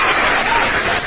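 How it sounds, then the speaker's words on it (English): A live audience bursts into loud, dense applause, a brief and steady wash of clapping with no voices over it. "Let's give a cheer"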